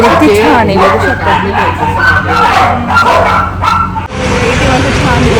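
Several dogs in a mall pet shop bark, yip and whine in quick overlapping bursts up close, with voices talking over them.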